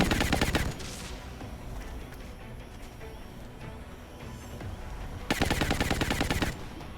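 Two loud bursts of rapid automatic gunfire in XCOM Long War, one at the start and a longer one near the end, with quieter game ambience between them.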